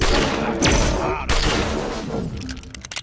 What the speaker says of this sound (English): You can double shot a shotgun.